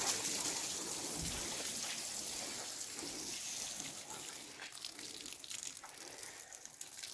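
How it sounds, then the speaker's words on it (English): Water from a garden hose sprays steadily over a radish bed at a dacha in Khabarovsk, Russia, a continuous broadband hiss that eases slightly partway through, with no voices. "Water the radishes."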